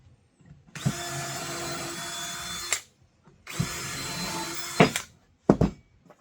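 A power drill drives screws into a wooden hat rack. Two sustained whirring runs of about two seconds each are followed by a short final burst, all close and loud with quiet pauses between.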